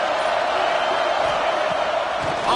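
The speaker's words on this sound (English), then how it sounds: "This crowd ready to make its presence known." Steady broadband roar of a stadium crowd at a college football game, loud and continuous without a break or any clear individual voices.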